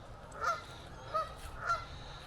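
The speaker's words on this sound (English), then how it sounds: "We hear the noisy geese." Geese honking at a park's main lake on a Sunday morning, three distinct honks spaced about half a second apart, moderately near against steady outdoor background noise.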